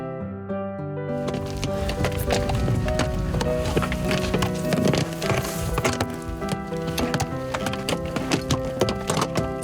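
Horses working as helpers for mountain communications crews walk with a steady clip-clop of hooves, blended with a continuous tonal background throughout.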